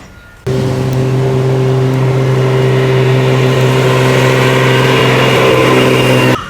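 A 1968 Jaguar E-Type Series 1.5 engine bursts to life after a brief pause, then holds a loud, close, steady droning note that stays even until it cuts off at the end.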